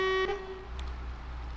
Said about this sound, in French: Un petit coup de klaxon.